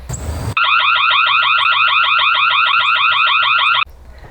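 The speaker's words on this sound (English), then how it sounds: "you can set either the alarm and or the flashing light to activate when an intruder interrupts the sensors" A DZEES solar security camera sounds its intruder alarm: a loud, rapidly warbling electronic siren that starts abruptly, runs steadily for about three seconds alone, then cuts off.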